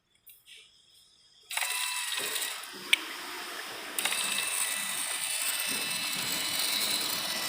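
A VW Passat diesel fuel pump runs with a steady, harsh mechanical whirring that starts abruptly and runs on too loudly, with a rattling, ratchet-like texture and a sharp click partway through; no talking.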